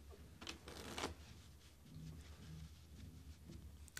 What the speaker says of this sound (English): I'm going to shuffle them like this.